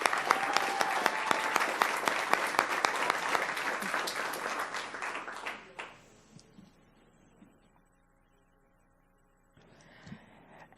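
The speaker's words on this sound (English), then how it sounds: "Let's give him a round of applause." Audience applause at a school board meeting in Palm Beach County, a steady crowd of clapping that holds strong for about five seconds, then fades into quiet room noise before a brief flurry of scattered claps.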